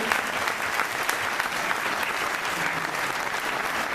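Sustained applause from a crowd at a political speech by Julio Anguita in Catalonia, a dense, even roar of clapping with occasional sharper claps poking through.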